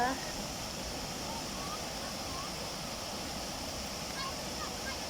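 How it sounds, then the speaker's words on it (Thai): The steady roar of Huai Chan waterfall in Khun Han district, Sisaket, Thailand, rushes continuously and fairly close, on a drizzly day with people playing in the water. "นี่ค่ะน้ำตกห้วยจันทร์ นำตกพ่อจันทร์อำเภอขุนหานจังหวัดศรีสะเกษ ค่ะ"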